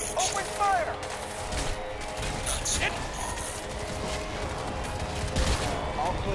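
Rapid bursts of gunfire in the shooter game Crysis 2 crackle through a dense, continuous battle mix of repeated shots and impacts, loud and busy from start to finish.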